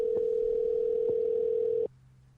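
A steady electronic ringback tone hums for nearly two seconds with faint clicks, then cuts off abruptly into quiet line noise.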